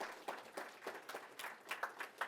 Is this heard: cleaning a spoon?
no